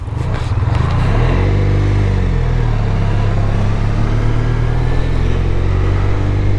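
Motorcycles riding out on the road on a fine day, engine drone rising as they pull away, then holding a steady, loud, close rumble with the engine note shifting under wind.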